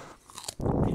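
Celery munched right at the microphone, a soft bite followed by a loud, close crunch, no talking.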